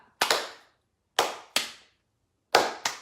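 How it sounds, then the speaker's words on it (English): Five sharp hand claps in an uneven slow rhythm: one single clap, then a pair, then another pair, each crisp and close with quiet gaps between. "Let's do a slow clap."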